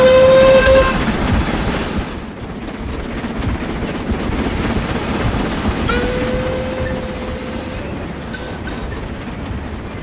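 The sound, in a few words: steam locomotive in a video game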